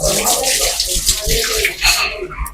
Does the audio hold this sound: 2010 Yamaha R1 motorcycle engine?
no